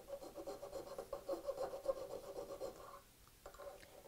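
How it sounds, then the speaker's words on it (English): A small triangular saw-sharpening file rasps against saw teeth in a woodworking shop, steady rhythmic scraping strokes up close that stop briefly near the end. "So, small triangle saw sharpening file. And that'll let me do the bottoms of these gullets."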